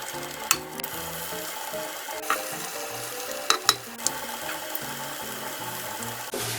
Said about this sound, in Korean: 한 수저씩 동글동글하게 떠서 이렇게 전부치기 하시면 됩니다.